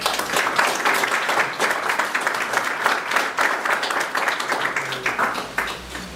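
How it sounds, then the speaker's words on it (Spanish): Sustained applause from a lecture audience welcoming a law professor before an evening talk, dense steady clapping filling the room for about six seconds, with a faint voice near the end. "al profesor Nieva, al cual recibimos con un fuerte aplauso."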